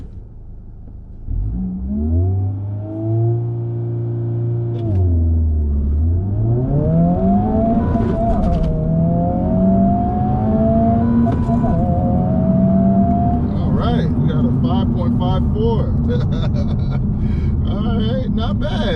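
A 2023 Honda Civic Type R launching hard from a standstill with traction control fully off, its engine droning up through the revs with shift dips in a steady, loud climb, cabin wind noise rising toward the end.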